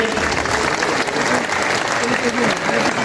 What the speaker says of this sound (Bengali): সবাইকে হাত তালি।